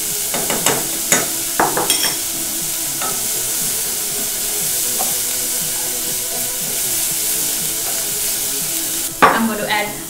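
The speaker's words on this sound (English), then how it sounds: "And just stir that around in the butter." Onion fries in butter while being stirred, loud clattering utensil scrapes at the start and again near the end around a continuous close sizzle, with no talking.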